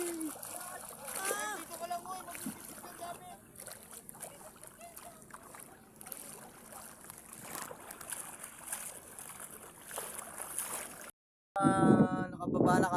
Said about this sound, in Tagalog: Lakad-lakad kami sa tubig guys.